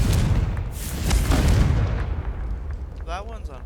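A Confringo fire spell goes off in the Hogwarts Legacy video game as a loud, booming explosion that rolls and fades over a few seconds. A short voice sound comes near the end.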